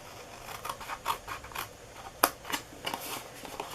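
Scissors snip paper glue tabs for a butterfly window box craft: quick, close, crisp cuts repeating in an irregular rhythm, with light paper rustling between them.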